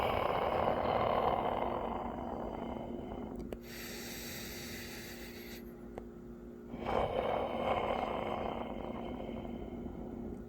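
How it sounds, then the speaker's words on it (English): Slow, deep breaths are drawn in and let out in a calm, close, soft setting, a long airy inhale and exhale with a quieter pause between them. "let's take a few deep breaths"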